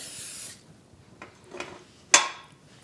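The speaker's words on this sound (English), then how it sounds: "Doing a quick spray." A short hiss of cooking spray onto a waffle iron, followed by a few faint clicks and a sharper metallic clack, in a quiet kitchen.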